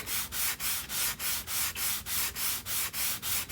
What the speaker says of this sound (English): I keep trying to go to a fresh side of the sanding block.